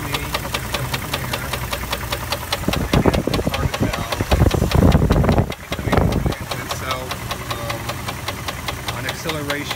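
Loud rapid ticking from the engine of a 1999 Jeep Grand Cherokee, a fast metallic clatter running throughout with a rougher surge of revving in the middle, recorded close up.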